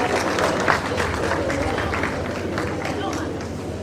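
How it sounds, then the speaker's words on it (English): Sustained audience applause at a pharmacy induction ceremony held by the Pharmaceutical Society of Nigeria, a broad, continuous roar of clapping and crowd noise that stays fairly loud and even throughout. "Another round of applause, please."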